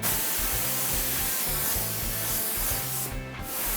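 Brush strokes lay a coat of paint onto a card, a close, loud and continuous rubbing swish with rhythmic back-and-forth texture and no talking.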